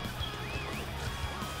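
A horse in the video game Dynasty Warriors 9 on PS4 gallops with rhythmic clip-clop hoofbeats and a brief rising whinny, set in a busy battle soundscape.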